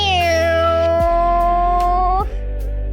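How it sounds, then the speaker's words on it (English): A cat meows in a long, drawn-out wail that rises slightly and then breaks off, followed by a second, shorter meow. Both calls are loud and close, with no talking over them. "Meow."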